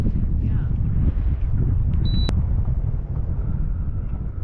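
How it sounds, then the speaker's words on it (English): Strong wind buffets the microphone in a constant low roar, gusting without pause throughout. "It's getting a bit windy, hey?"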